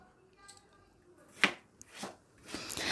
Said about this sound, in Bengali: ঝিরিঝিরি করে আলু কাটি ওই রকমভাবেই আলুগুলো সব আগে কেটে নেবো